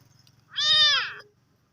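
One clear, thin mew from a kitten in a trash bin rises and falls, lasting under a second against a quiet, low hum.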